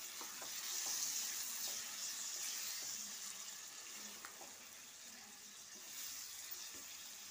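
Water is poured into a one-pot chicken rice dish of fried rice and yogurt cooking in a pot, with a steady hiss and sizzle running throughout, close and moderately loud, with no voices.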